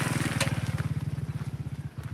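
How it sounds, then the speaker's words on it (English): A motorcycle engine putters with a rapid, regular throb, fairly close and growing slightly, with no one speaking. "Here's a guy coming up on motorcycle."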